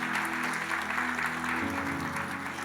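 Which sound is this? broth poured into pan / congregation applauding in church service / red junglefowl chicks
congregation applauding in church service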